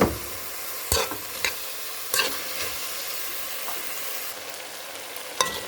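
Diced potatoes tipped into a pan of frying meat and tomato for Kazakh kespe kozhe noodle soup, giving a steady sizzle broken by a few sharp clatters and stirring knocks, close and fairly quiet with no talk.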